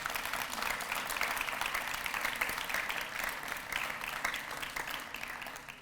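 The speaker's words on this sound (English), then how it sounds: "they deserve a round of applause" Steady, dense audience applause at a registered nursing program celebration, many hands clapping at an even level throughout with no talking, tapering slightly at the end.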